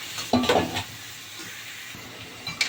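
Potatoes and pointed gourd frying in oil with ground spice paste, a steady sizzle with scraping stirs and a few clinks of a spoon against the pan, close and fairly quiet.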